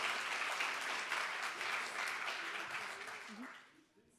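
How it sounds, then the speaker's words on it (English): Friendly applause at a press conference for the independent juries' award ceremony at the Berlinale film festival, moderate clapping from a seated room that fades out near the end as a voice begins. "the awkward pause maybe can be filled again with friendly applause"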